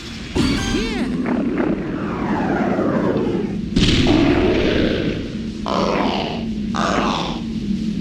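The Fiery Gobblegut boss from Super Mario Galaxy 2 lets out loud, deep game roars and grunts, mixed with booming crashes and blasts in dense bursts across the whole stretch, with music or effects underneath.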